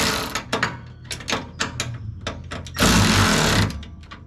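A wrench turning a nut on a rear sway bar bracket of a 2020 Jeep Gladiator, quick repeated metallic ratchet clicks followed by a denser burst of rapid ratcheting, close and fairly loud, with no voices.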